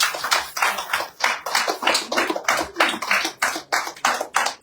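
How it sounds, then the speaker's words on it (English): Sustained clapping from a town hall crowd at an Igbo community gathering, dense and fairly close, pulsing in rhythmic waves with no talk over it. "give yourself another strong round of applause"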